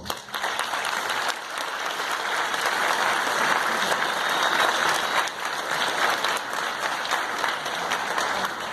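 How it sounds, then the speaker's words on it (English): Sustained audience applause at a talk on film visual effects, dense and steady for the full length with a brief dip near the start and another near five seconds, no voices on top. "So a round of applause for Chris Knott."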